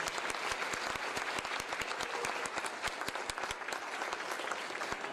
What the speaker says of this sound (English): Please let's give John another round of applause.